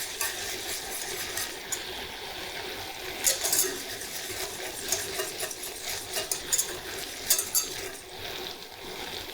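Butter is stirred in a saucepan, the spoon scraping the bottom with soft, irregular strokes over a faint bubbling.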